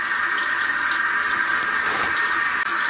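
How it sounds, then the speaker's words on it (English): Water runs steadily from a tap over a pickaxe being washed, a constant hissing splash with small rattles, close and fairly loud throughout. "I'm washing my pickaxe, if y'all wonder why the water running"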